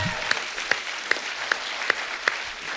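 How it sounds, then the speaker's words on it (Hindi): Studio audience applause on a Hindi comedy talk show, a steady wash of clapping with sharp, evenly spaced louder claps standing out at a regular rhythm. "इनके लिए जोरदार तालियां।"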